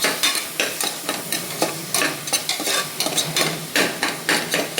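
Chicken sukka masala being fried and stirred in a pan, a loud close sizzle with rhythmic scraping strokes of a ladle repeating every half second or so, no one speaking.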